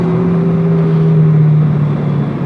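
Yamaha R15 2017 motorcycle engine holding a steady, loud drone close by, with a sustained tone that dips slightly near the end, running alone with no voices.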